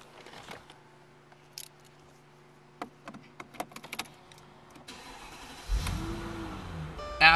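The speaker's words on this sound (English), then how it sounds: "I'm gonna actually jump back in and start the vehicle for you." A 2004 Mercedes-Benz CL55 AMG with a 5.5-liter supercharged V8 is started near the end after clicks and small interior noises, the engine catching with a close, rising whir and rumble.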